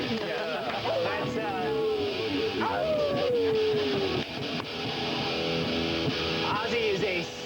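A 7.5-month-old English-line golden retriever howls in long, sliding, wavering tones broken by yips and whimpers, close and loud, with a person talking beneath it.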